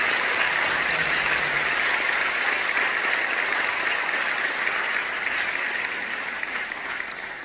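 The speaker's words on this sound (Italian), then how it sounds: "ringraziamo con un grande applauso nel nome di Gesù" Sustained, dense applause from a church congregation in Roccella Jonica, giving thanks in the name of Jesus; steady and full for about seven seconds, easing slightly toward the end.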